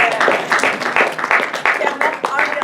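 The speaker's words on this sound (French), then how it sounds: "Vous pouvez applaudir" Audience applause at a French-language student mental health panel discussion, a dense patter of many hands clapping throughout, steady and fairly loud with voices mixed in.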